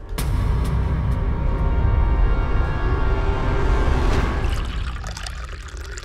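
Filtered water pouring steadily into a vessel for about five seconds, a loud continuous splash and trickle that thins out near the end.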